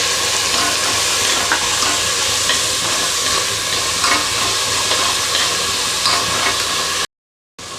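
Shallots, green chillies, mint and tomato fry in a pan with a loud, dense, continuous sizzle, close up and alone, with a brief dropout near the end.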